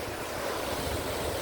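Ocean waves at Tiscornia Beach wash in as a steady, loud broadband surf roar with some wind noise, continuous across the short stretch and with no clear voices standing out.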